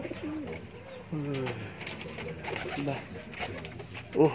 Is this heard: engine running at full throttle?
no